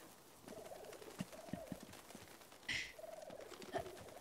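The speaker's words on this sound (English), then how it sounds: "Oh, pigeon's telling me where to go." A pigeon in the video game Uncharted 2 coos in soft repeated phrases, faint and close, with a few light taps and footstep-like knocks between the calls.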